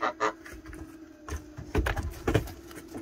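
Three geese at a chicken coop with an automatic door, giving a few short, loud honks and squawks close by amid some shuffling and knocking.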